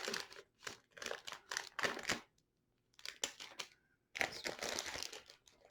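Packing tape is pulled and peeled off a comic book package in loud, close bursts of crinkling and ripping, with short pauses between the tugs and a longer, rougher tear at the end.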